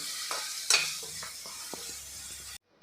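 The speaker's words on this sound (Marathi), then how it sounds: "गॅसची फ्लेम लो ठेवायची आणि आपल्याला हे परतून घ्यायचं आहे" Ground spice paste sautés on a low flame for a bitter gourd curry, a soft steady sizzle broken by scrapes and taps of a spoon stirring in the pan, fairly quiet and close.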